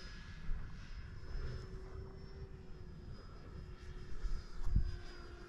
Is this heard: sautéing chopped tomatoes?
no